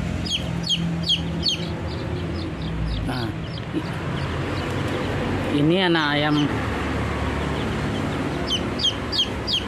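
Week-old native village chicks peep in quick, high chirps scattered through the clip, alongside clucking fowl and someone talking nearby.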